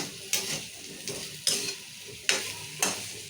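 Potatoes frying in oil with salt and turmeric, a steady sizzle broken by four sharp scraping stirs of a spoon against the pan, close and fairly loud, with no talking.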